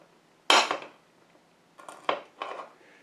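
A sharp single-bevel kitchen knife cracks through hard cashew nut brittle, giving one loud snap, then a cluster of smaller crunching cracks as the blade finishes the cut.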